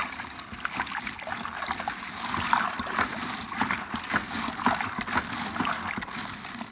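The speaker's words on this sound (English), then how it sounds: "once I pour in the cold water" Cold water being poured into a turkey brine, a steady close trickling and splashing that runs without a break.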